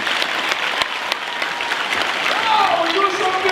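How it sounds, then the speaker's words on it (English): Audience applause at a high school for speaker Keith Hawkins, a dense, steady clapping from a full room that swells slightly near the end, with a few voices mixed in. "Let's give Keith Hawkins another big round of applause"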